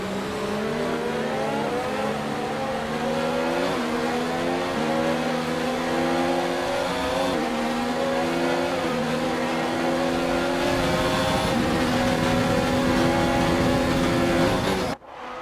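Formula 1 car engine in the F1 2019 video game at the Brazil Grand Prix, with a worn engine. It screams loudly and continuously, its pitch climbing through each gear before dropping at every shift, and cuts off abruptly at the end.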